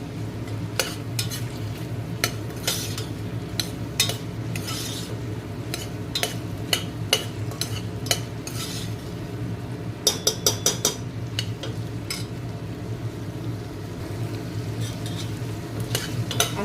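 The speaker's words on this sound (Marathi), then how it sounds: "आता हे छान परतून घेतलेलं आहे टमाटो पण छान त्याच्यामध्ये परतले गेलेले आहेत" Tomatoes and mushrooms sautéing in a pan, a continuous sizzle under repeated spatula scrapes and metallic clinks, with a quick run of taps partway through, close by and without talk.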